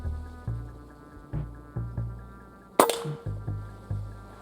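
Benjamin Marauder air rifle firing outdoors at can targets: a single sharp crack with a bright metallic ring, set against a repeating rhythmic low thumping pulse throughout.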